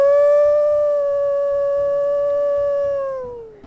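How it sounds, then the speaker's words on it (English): A wolf in a video game lets out a single long, clear sustained howl, loud and close, that tapers off at the end. "We'll go ahead and we'll listen to his howls here."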